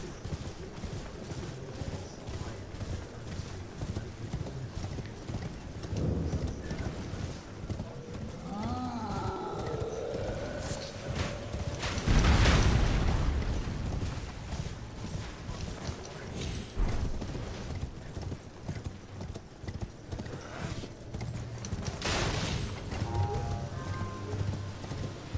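A horse gallops in the video game Elden Ring, a steady rapid clip-clop of hooves running throughout, with a louder whoosh midway and brief snorts, no speech.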